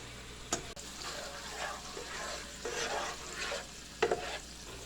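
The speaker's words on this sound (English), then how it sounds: "So I'm just going to saute this for like just a few minutes until it gets kind of soft." Vegetables sauté in a pan with a soft, continuous crackle, broken by a few clicks and scrapes of stirring; the sizzle stays fairly quiet and close, and no one talks.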